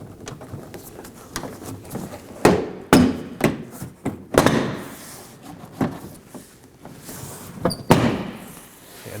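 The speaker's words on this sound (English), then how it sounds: "put it on the handle, and the other hand on the liftgate and pull down." The interior trim panel on the liftgate of a 2014–2018 Chevrolet Equinox is pulled free, a series of irregular plastic clicks, pops and hollow thumps heard close and moderately loud, with no talking.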